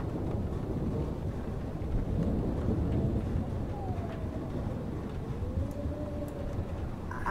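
Thunderstorm ambience from the video game Life is Strange: a steady, loud broadband rumble of wind and storm noise fills the whole stretch, with faint tonal sounds drifting over it and no clear single thunderclap.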